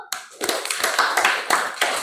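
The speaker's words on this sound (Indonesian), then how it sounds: "Tepuk tangan dulu." An audience in a classroom session claps together, a quick run of sharp overlapping hand claps that starts abruptly and keeps a lively, fairly loud patter throughout.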